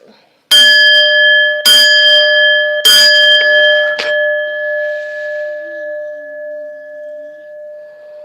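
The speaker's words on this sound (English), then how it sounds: "Let's cleanse this energy by hitting this bell." A bright metal bell is struck three times in quick succession, then a softer fourth tap, each strike leaving a long ringing tone that slowly decays, loud and close.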